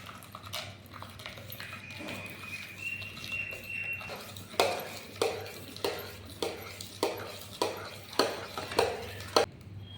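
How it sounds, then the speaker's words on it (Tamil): Sugar mixture with ground almonds stirred in a pot with a spoon, a quiet start giving way to a regular series of scraping strokes, about one every half second, close and clear. "நம்ம சர்க்கரையை சேர்த்து நல்லா கலந்து விட்டுக்கிட்டோம் பாருங்கள்"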